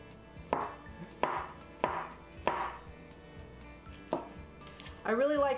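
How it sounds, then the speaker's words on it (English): A knife chops mushrooms on a cutting board in a slow, even rhythm of six or seven sharp strokes, followed briefly by a voice. "Next, I'm just going to chop up a couple of mushrooms."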